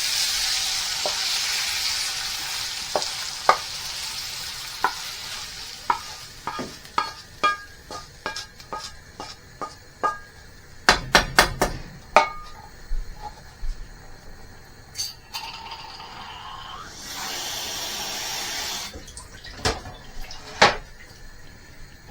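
Rabbit jalfrezi being stirred in a pan, with a steady sizzle and frying hiss under a series of sharp scraping and tapping knocks of the spoon against the pan, some quick clustered bursts and a brief watery rush near the end.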